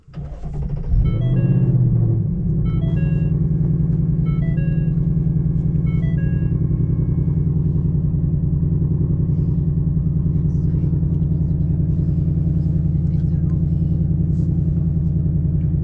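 A 2024 Ford Mustang GT fires up with a brief rising engine whir, then settles into a steady, deep idle rumble, close by, while electronic chimes ring out over it during the first seconds.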